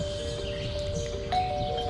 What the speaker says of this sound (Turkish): Bu da zil.